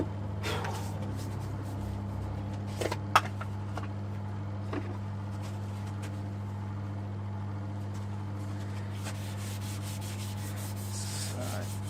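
A wooden black bean bowl is sanded with Yorkshire grit abrasive paste, a soft continuous rubbing with a few light knocks over a steady low machine hum.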